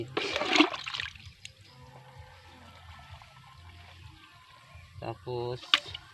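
Water poured into a sprayer mix of fungicide for eggplant spraying, a brief splashing pour at the start and another near the end, with quiet handling noise and someone speaking in between.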